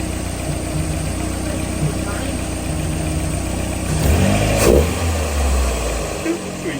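A turbocharged Mazda Miata engine with a manual throttle body idles roughly, then surges briefly in a single throttle blip before settling back, close by amid steady background noise.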